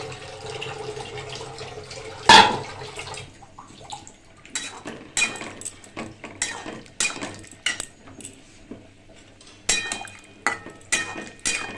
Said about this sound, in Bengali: এবার বেটে রাখা পোস্ত একটু জল দিয়ে দিই।